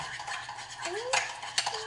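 A utensil quickly mixes keto pumpkin cream cheese muffin batter in a bowl, giving soft clinking and scraping strokes close by, fairly quiet, with a couple of sharper knocks and no talking.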